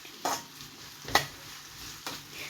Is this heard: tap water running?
no